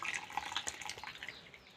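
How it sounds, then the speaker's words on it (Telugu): Water trickling and dripping through a mesh sieve while ginger paste is strained for chakka pakodi batter, a faint splashy patter that thins out toward the end. "అందుకొరకు నేను జాలి పెట్టి ఉడవస్తున్నా"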